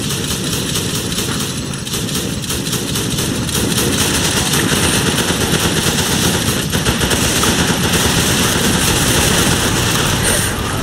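Sustained rapid automatic gunfire from the Running with Rifles shooter game, loud and continuous throughout, with bursts overlapping engine rumble and battle noise.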